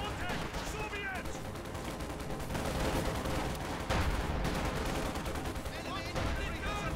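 Battle sounds from the World War II strategy game Company of Heroes 2: a continuous clatter of rifle and machine-gun fire with grenade blasts going off amid an infantry fight, steady and busy with bursts of chirping effects throughout.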